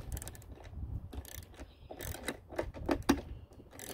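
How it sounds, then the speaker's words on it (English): A ratchet works a lock nut bolt on a Ram TRX pickup, making quick clicking bursts of metallic pawl ticks at close range, with some busier sharper clicks toward the end. "then we're going to use the ratchet on the front side, on the face of the bolt"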